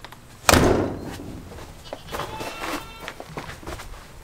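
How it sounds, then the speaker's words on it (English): A door shutting at a homestead, one sharp loud slam followed by fainter knocks and rustling movement nearby. "As soon as they hear the door shut."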